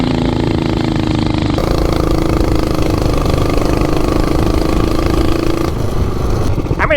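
Ported 420cc minibike engine fitted with a small sprocket, pulling hard under throttle; a loud, close, steady rasping drone that shifts pitch as it speeds up, with a brief clatter near the end.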